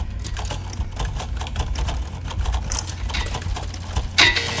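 Fast keyboard typing clatters steadily in a typing game, a dense run of close, crisp keystrokes with brief pauses and a louder flurry near the end.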